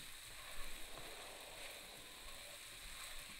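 Fried rice with soy sauce sizzles in a pan as a faint, steady hiss with light crackling, and no voices over it.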